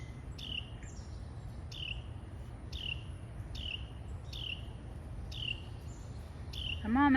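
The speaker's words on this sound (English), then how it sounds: "The mom and daddy bird is mad at you." Parent birds call again and again outdoors, a steady string of short sharp chirps repeating about every half second over a low insect-like hum, with a louder rising call near the end.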